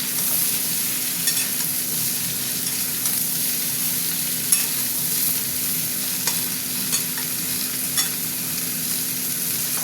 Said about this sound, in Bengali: আচ্ছা, এবার আমি সবজিগুলো দিয়ে দিলাম। এতে কাঁচা লঙ্কা দেওয়াই আছে, 4-5টা কাঁচা লঙ্কা দিয়েছি,